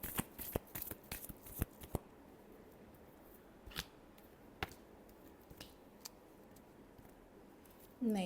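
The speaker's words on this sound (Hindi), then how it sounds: "Last shuffle." Tarot cards are shuffled in a short burst of rapid riffling clicks over the first two seconds, then a few scattered single card snaps at a quiet close distance, with no talking.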